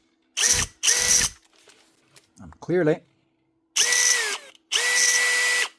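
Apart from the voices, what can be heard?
faulty Makita DFF083 drill driver motor spinning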